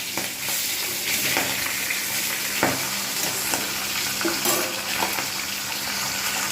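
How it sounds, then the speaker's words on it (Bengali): Rui fish frying in hot oil in a home kitchen, a steady close sizzle with the occasional crackle and a few stirring clicks, no talk. "খুব ভালোভাবে মাছ আমি ভেজে নিয়েছি"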